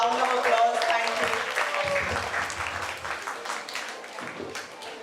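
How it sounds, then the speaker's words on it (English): An audience applauds at a book launch event in a hall, the dense clapping loud at first and then thinning gradually over a few seconds as voices mix in underneath. "Everyone, please welcome her with a round of applause"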